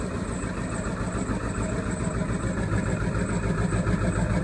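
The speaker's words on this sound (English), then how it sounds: "Truck's running rough, run on 4 cylinders." 2002 Ford 7.3 Powerstroke diesel truck idling rough after a cold start on only four cylinders, a steady uneven chugging rumble heard moderately close, no speech.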